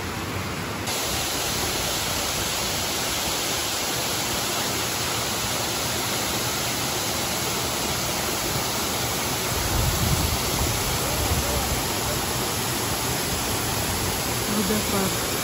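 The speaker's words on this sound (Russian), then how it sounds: "Водопад." Waterfall at El Nicho nature reserve in Cuba, a steady, loud broadband roar of falling water that fills the whole clip without pause, close by and constant from start to end.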